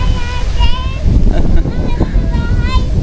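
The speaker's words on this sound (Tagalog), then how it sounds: "Lakas po ng hangin." Strong wind buffets a microphone outdoors in a steady, loud rushing roar, with a voice speaking briefly over it.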